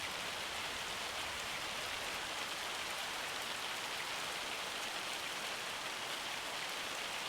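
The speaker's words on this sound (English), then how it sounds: "Hail, we got hail." Hail pounding down in the farming video game Farming Simulator 25, a dense, even hiss of countless impacts that holds steady and loud with no talk.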